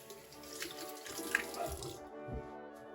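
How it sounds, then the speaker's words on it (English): Hot water pouring from a tap into a rinse bowl, a soft steady splashing stream with small drips and gurgles, close by and fairly quiet, stopping partway through. "And I'll pour a little bit of hot water in there."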